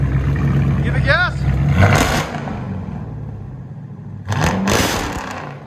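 Supercharged 6.4L Hemi V8 in a Chrysler 300 SRT8 with true dual straight-pipe exhaust, revving in two loud bursts separated by a quieter idle, with people talking over it.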